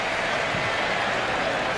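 An NBA arena crowd during a Raptors at 76ers game roars in a broad, steady wall of cheering and applause for Vince Carter, loud and continuous with no clear breaks.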